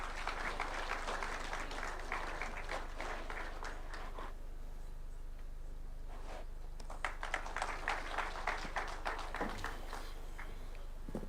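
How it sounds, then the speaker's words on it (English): Applause from the audience at the Katiba 16th anniversary ceremony at KICC rises in bursts, fading into a quieter stretch before clapping picks up again, heard at a distance and fairly soft. "A round of applause, please."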